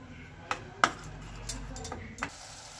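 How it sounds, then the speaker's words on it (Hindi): A spoon scrapes and clinks against a pan while masala with cream is stirred and roasted for matar paneer, giving a few sharp metallic taps over a low, steady sizzle. "इसको अच्छी तरह से हम भूनेंगे"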